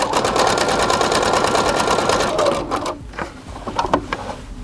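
Sewing machine stitching pieced quilting fabric with light gray thread, a fast steady mechanical whirr that slows and breaks into a few separate stitches near the end.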